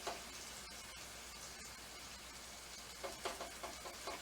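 Wine sizzling and cooking off with fiddleheads in a hot pan, a steady soft frying hiss with a few faint stirring clatters near the end.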